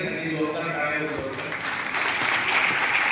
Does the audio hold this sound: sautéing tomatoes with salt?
no